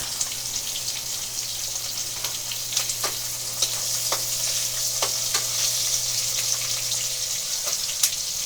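Fish fries in a pan at home with a constant close sizzle and hiss, broken by occasional sharp clicks and taps from turning, while a low steady hum runs underneath.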